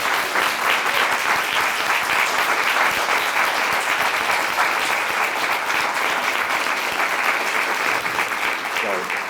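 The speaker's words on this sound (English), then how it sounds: "can I get everybody to give us a rousing applause?" Rousing audience applause fills a Human Rights Day forum on the death penalty, a dense, steady wash of many hands clapping that stays loud and even throughout with no pause.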